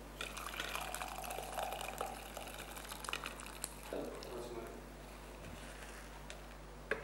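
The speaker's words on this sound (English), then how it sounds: "I've kept a pot here to filter it in, and then I'll transfer it into the cups." Coffee drips and trickles steadily through a filter into a pot in a home kitchen, a soft continuous liquid patter with light crinkling and clinks over a constant low electrical hum.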